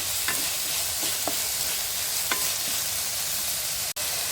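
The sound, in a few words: potatoes with salt and curry leaves being sautéed in a pan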